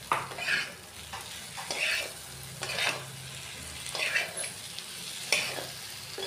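Potatoes being stirred into a spice masala frying in a pan: rhythmic scraping strokes about once a second over a steady close sizzle, with no talking.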